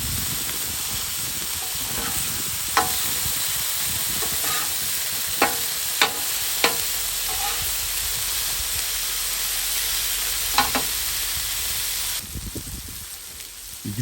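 Burger patties sizzle on a Blackstone griddle with a steady, loud hiss throughout, broken by a few sharp spatula clicks and scrapes.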